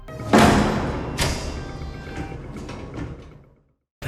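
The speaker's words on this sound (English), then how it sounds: "a female guard spots him through the cameras and closes all of the doors so that he cannot escape" Heavy prison doors slam and thud shut in sequence, several loud metallic bangs with ringing decay, followed by a short silence and a final bang.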